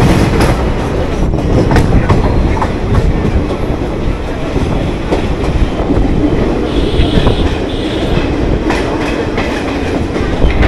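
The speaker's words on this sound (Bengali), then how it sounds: "13465 Howrah Malda town intercity express ভায়া আজিমগঞ্জ ছাড়লো" The 13465 Howrah–Malda Town Intercity Express via Azimganj pulls out of platform 7 at Howrah station, its wheels clattering steadily over rail joints for a sustained, loud run, with occasional faint squeals and no voices.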